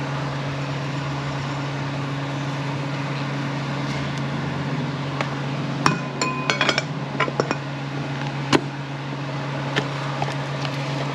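Small check ball rattling loose inside an AW55-51SN automatic transmission valve body part, a cluster of light metallic clinks and ticks over steady background hum, fairly quiet and close.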